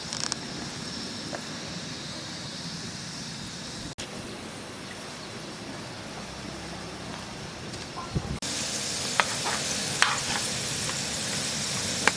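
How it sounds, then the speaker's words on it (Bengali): Ripe palm-fruit langcha fry in hot oil, a soft steady sizzle that swells into a louder, brighter crackling partway through, with occasional sharp pops. "তেল গরম হয়ে গেছে, এবার আমি তালের ল্যাংচাগুলো ছেড়ে নেব।"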